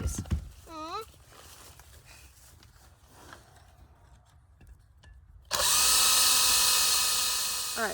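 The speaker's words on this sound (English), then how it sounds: "now we have our 2 containers with the holes drilled here" A power drill bores holes into the bottoms of two plastic containers for an indoor herb garden kit, a loud, sustained whine running steadily from about halfway through after quieter handling and voices early on.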